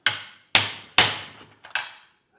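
Hammer blows on hot metal worked with a fuller at the anvil: four sharp ringing strikes at a steady pace, close and loud, each decaying quickly, with a light tap just before the last.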